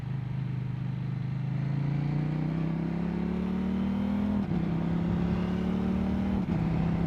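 A motorcycle engine runs steadily close by, its tone rising slowly as revs climb, with two brief dips in the drone near the end and no voices.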